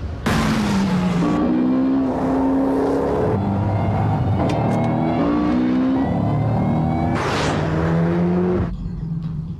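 A high-performance car accelerates hard at speed, engine revving through rising pitch sweeps and gear changes, loud and close with steady roar and a brief whoosh near the end, no talk.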